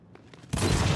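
Gunfire in the shooter game Gears 5 bursts in abruptly halfway through as a loud, dense volley that carries on to the end, following a brief quieter stretch.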